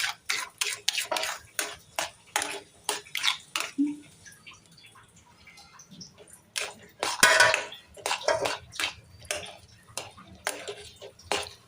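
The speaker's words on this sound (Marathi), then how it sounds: "आता हे व्यवस्थित पीठ जे आहे ते ताकामध्ये एकजीव करून घ्यायचं" Flour being stirred into buttermilk in a pan for a traditional Konkanastha Brahmin ukad, a spoon scraping in steady repeated strokes, close and clear, with a quieter pause partway through.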